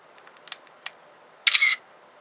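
Shutter clicks from an inexpensive camcorder in still camera mode: a few soft ticks, then a louder electronic shutter sound lasting about a quarter second, close and isolated against near silence.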